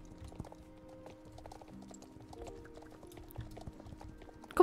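Horse hooves clip-clopping at a walk through forest in the game Star Stable Online, a soft steady rhythm of footfalls under faint ambient background, no talk over it.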